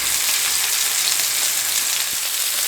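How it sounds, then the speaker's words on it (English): Pork chops frying in a cast iron skillet, a loud, dense, unbroken hiss of searing fat that holds steady throughout, close up with no voices. "You're just going to let this cook on each side for about 5 minutes."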